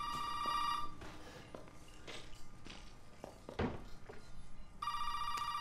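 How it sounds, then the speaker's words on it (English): A telephone rings inside a Resident Evil 7 game scene, with a bright, steady electronic ring at the start and again at the end, separated by quiet footsteps and small taps in between. "Oh, now the phone rings."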